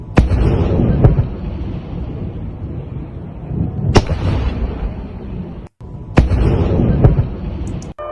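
Explosions during a missile attack in Russia: several loud, sharp blasts spaced a few seconds apart over a constant rumbling background, with no talk.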